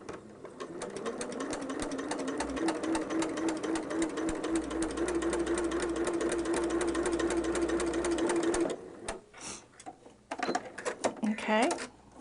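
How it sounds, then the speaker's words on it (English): A home sewing machine stitches a long diagonal basting seam with big stitches, a steady rapid mechanical chatter running for about eight seconds before stopping, followed by a few short bursts of handling and clicks. "we're going to sew a 45-degree diagonal seam across the two X'd pieces"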